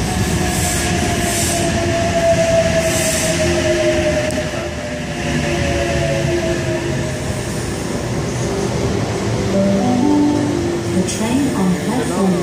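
A Sydney Oscar H-set electric train pulls away from Allawah platform, its motor whine rising in pitch over rumbling wheels, with squealing tones near the end.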